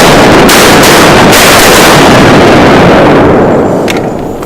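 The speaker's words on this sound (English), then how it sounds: "Good shooting, guys." Shotgun blasts during a duck hunt by a boat dock: a couple of sharp reports within a loud, roaring wash of noise that slowly fades out, with no talking.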